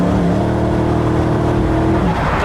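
A Koenigsegg 5-litre V8 hypercar with 1,500 horsepower accelerates hard, its engine roaring loud and close in a continuous rising drone with no voices.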